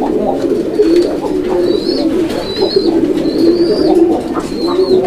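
Fancy pigeons coo in a continuous, close, throaty rumble, with brief higher calls repeating every second or so above it.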